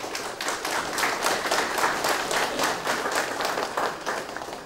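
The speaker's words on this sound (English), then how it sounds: "They already clapped again." An audience applauds steadily for nearly five seconds, many hands clapping in a dense, even roar that stays loud throughout, with no voices on top.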